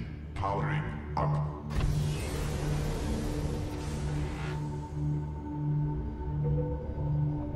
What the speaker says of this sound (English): Engine powering up.